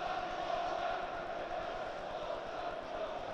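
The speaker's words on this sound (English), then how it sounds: "Friendly rivalry banter from the crowd." A Middlesbrough football crowd chants and jeers in a steady, distant roar of many voices, sustained throughout.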